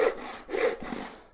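Hand saw strokes rasping through wood, three rhythmic back-and-forth pulls, close and fairly loud with no talking.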